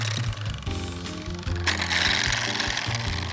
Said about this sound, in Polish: Mam wrażenie, że ten masażer działa trochę jak młot pneumatyczny, ale nie robi krzywdy